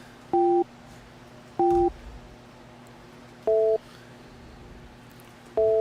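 Four short electronic telephone tones sound at spaced intervals, each a brief steady two-pitch beep, with quiet room noise between them.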